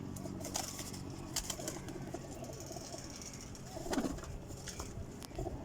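Imamdin pigeons from a champion breeder's loft coo softly and repeatedly, with brief wing flutters amid a steady background murmur.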